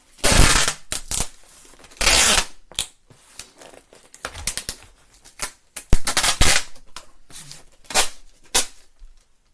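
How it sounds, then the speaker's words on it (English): Loud bursts of packing tape being yanked off a roll, screeching and crackling in several long pulls separated by short pauses and rustling. "Just get the tape noise out of the way."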